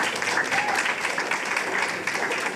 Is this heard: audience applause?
yes